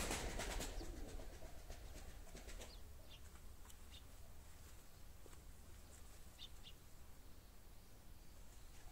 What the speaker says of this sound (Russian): Это, скорее всего, голубь.